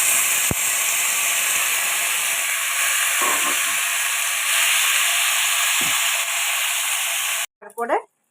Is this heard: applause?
no